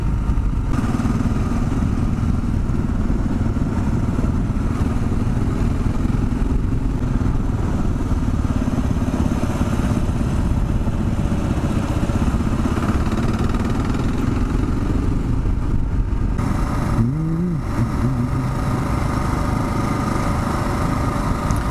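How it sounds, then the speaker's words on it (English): A dirt bike's light engine drones steadily on a forest road in Capitol Forest, Washington, heard constantly and fairly close for the whole stretch, with a brief rise in its revving near the end. "Yeah, dirt bike."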